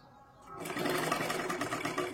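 A sewing machine runs steadily, stitching a double seam on a katori blouse; after a brief quiet start, the close, continuous motor whir and needle chatter build and hold without talk.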